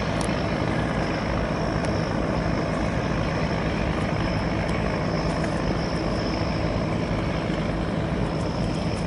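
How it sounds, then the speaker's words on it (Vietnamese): A loud, continuous Hino diesel boat engine on the Mekong River rumbles steadily throughout, a dense low drone with no pauses and no voices. "Wow, Hino, Hino, tiếng máy Hino."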